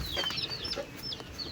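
Tiny newly hatched black chicks peep in high, rapid chirps close by, with a mother hen's soft clucks underneath in a short burst.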